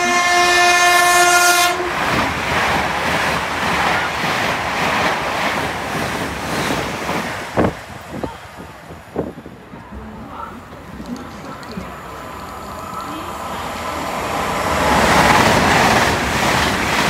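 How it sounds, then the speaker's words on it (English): A train pulls into a station platform after a loud, sustained horn blast at the start, its rumble rolling on with clanks and rail knocks as it slows near the platform, while a voice speaks over it. "The train now approaching platform 1."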